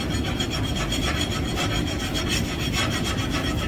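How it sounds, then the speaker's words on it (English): Flux being scraped off a freshly forge-welded piece of steel: a steady, continuous rasping scrape, close and fairly loud, running unbroken with no talking. "scrape the flux off"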